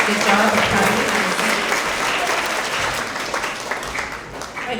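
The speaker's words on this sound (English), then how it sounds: "Another round of applause for all of our third grade communicators." An audience at an end-of-year elementary school award assembly claps for third graders, dense sustained applause filling the hall and slowly thinning, with a voice faintly mixed in.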